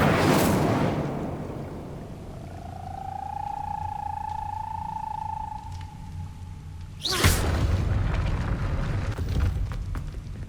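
A fire spell is cast in the Hogwarts Legacy video game: a burst opens the sound, then a sustained whooshing magical tone swells and holds, and a second loud burst of flame follows. No one talks.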